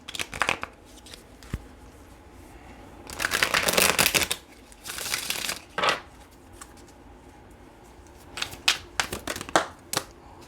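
Tarot cards being shuffled by hand, with several quick riffling bursts of crisp flapping separated by pauses and softer taps, close and clear with no talking.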